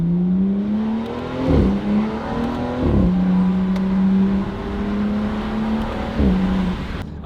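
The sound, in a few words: BMW N55 engine through Valvetronic valved sport exhaust revving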